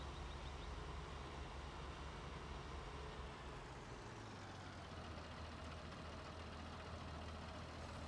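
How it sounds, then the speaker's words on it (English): Farm tractor on a field with a cultivator about to drop in, engine running at a steady low drone and rumble throughout, heard from inside the cab with no talk. "All right, so we're back in our tractor here on 118."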